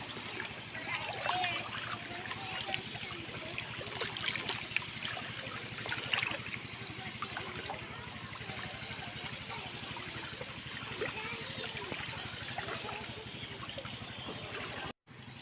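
A small motor boat engine putters steadily in a low, rapid pulse on rain floodwater in Sindh, mixed with water noise and faint background voices.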